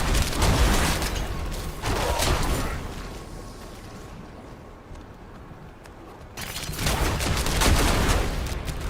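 Artillery Shrine effect in Diablo IV firing off a loud rolling barrage of booming, gunfire-like blasts, easing into a quieter middle stretch before another heavy burst of explosions.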